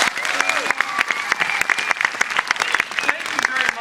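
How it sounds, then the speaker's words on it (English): An audience at a Science After Dark evening science event applauds, dense crowd clapping sustained throughout at close range, with a voice briefly audible over the claps. "So let's give these guys a round of applause."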